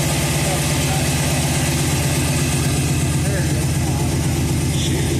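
A cammed 5.3-liter engine idles steadily on its first start, running rich with a loping rumble, while a voice talks nearby.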